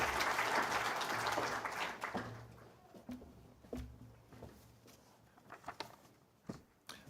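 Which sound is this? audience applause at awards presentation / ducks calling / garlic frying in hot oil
audience applause at awards presentation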